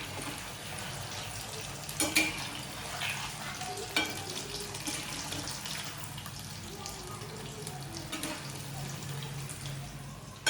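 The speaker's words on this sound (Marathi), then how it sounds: "मीडियमच ठेवायचा गॅस, म्हणजे जास्त करपलं जात नाही आणि छान अशा क्रिस्पी होतात त्या." Kothimbir vadi, coriander fritters, shallow-fry in a pan over a medium gas flame, giving a steady, soft sizzle close by with a few louder crackles and clinks mixed in.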